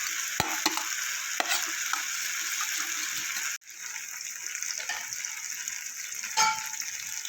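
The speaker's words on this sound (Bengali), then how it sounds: "এবার আমি দেবো ওর মধ্যে ভেজে রাখা আলু দিয়ে আর কিছুক্ষণ আমি আলুর সাথে মশলাগুলোকে আমি কষিয়ে নেব।" Fried potatoes sautéed with spices in a pan for a cabbage dish, a loud continuous sizzle with sharp spatula scrapes, briefly cut off midway before the hiss resumes, with no talking.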